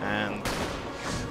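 Gunfire in the Company of Heroes WWI mod, a loud dense burst of rapid shots packed close together, with a sharp crack near the middle and talk running underneath.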